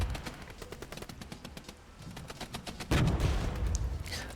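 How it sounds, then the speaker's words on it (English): Scattered gunfire crackles in the real-time strategy game Regiments, with rifle shots popping at a moderate distance and a heavier thump of mortar fire landing partway through, followed by a louder, denser stretch of combat noise. "we're taking fire from one direction, mortar fire from the other side as our rifle platoon is moving up"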